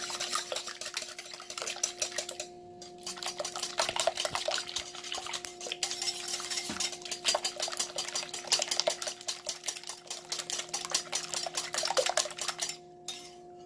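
A whisk beats eggs and cream in a bowl with fast, steady metallic clicking and rattling that runs on for several seconds, broken by a couple of short pauses.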